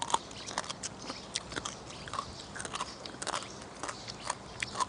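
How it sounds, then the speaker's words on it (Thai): Pickled razor clam root soaked in soy sauce, bitten and chewed close to the mic, giving a string of sharp, crisp crunches at an irregular pace, with no talk. "ตรงรากมันนี่แบบว่า ให้ความรู้สึกกรุบกรอบนะคะ"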